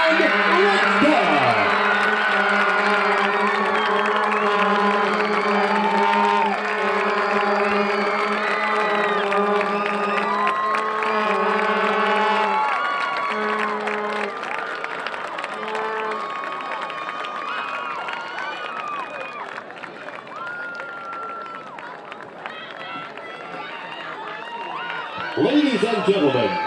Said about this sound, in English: a round of applause for all the court members and their queen, Miss Allie Caroline Richdale.